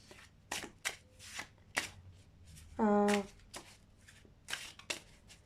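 Playing cards riffle-shuffled in one quick burst near the mic, between scattered taps and handling sounds, with voices around it.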